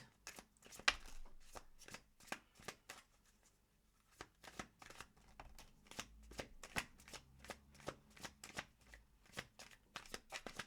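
Tarot cards being shuffled by hand in a quiet room, a fast run of crisp riffling snaps and flutters with a short pause partway through, soft and close, no voices.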